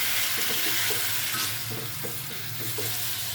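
Chicken is stir-fried with spice paste in a hot pan, with a continuous close sizzle and rhythmic scraping strokes of a spatula, and no one speaking.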